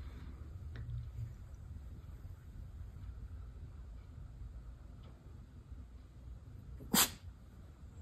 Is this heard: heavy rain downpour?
no